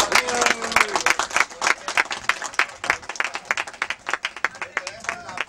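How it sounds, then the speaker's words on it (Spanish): A group claps for newcomers during a religious gathering, uneven rhythmic claps fading into scattered hand strikes, with voices talking over them. "Un aplauso a los nuevos."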